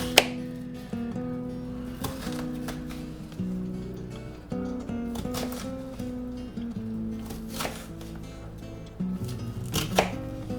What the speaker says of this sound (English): make sure you get your onion chopped up into smaller pieces